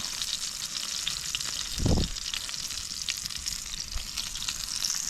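Mackerel (bangda) frying in a pan over a wood stove outdoors by a farm field: steady, dense oil sizzle with a brief louder hiss as another fish drops in, no talking.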